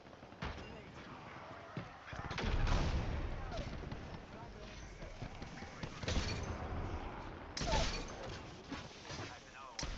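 Gunfire in a video game, loud bursts and thumps scattered across the stretch with heavier clusters of shots, heard beneath a player's voice talking throughout.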